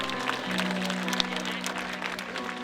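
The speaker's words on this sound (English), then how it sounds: "Let's give all those a good round of applause." Audience applause at the Tyler County Dogwood Festival queens coronation, a steady moderate clapping from a crowd that holds evenly for a few seconds, with a low sustained tone underneath.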